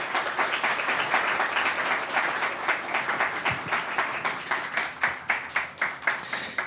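A church congregation claps through a baptism certificate presentation, steady applause that grows into sharper, more distinct individual claps toward the end, with no talking.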